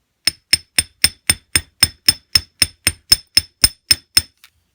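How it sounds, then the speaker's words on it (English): A chasing hammer strikes a jewelry wire loop on a metal block, about sixteen sharp, evenly spaced metallic taps ringing out with bright clinks, then a final faint tap. "Now on this one I hammer harden right here, and then I hammer harden my loop."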